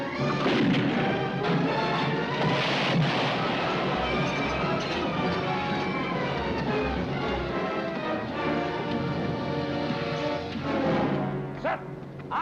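Cannon fire and battle din in a restored western film: dense, loud, continuous crashes and booms with shouting mixed in throughout.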